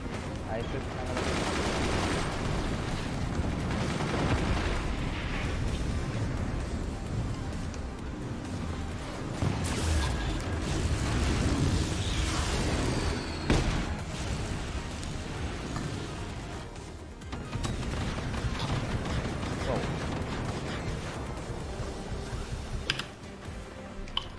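Cannons firing in the multiplayer strategy game Forts, dense rapid bursts of booming shots and impacts running throughout, loud, with players talking over the barrage.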